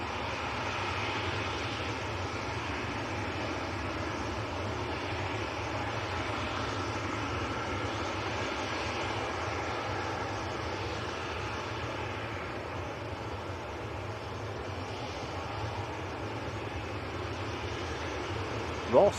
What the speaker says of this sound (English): This is Ryanair to Marseille, Maltese registered 737-800.